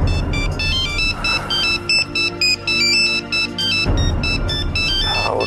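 A phone ringtone plays loudly and steadily for about five seconds in an office, its bright repeating electronic melody pulsing in regular bursts with a brief dip near the end, no talk over it.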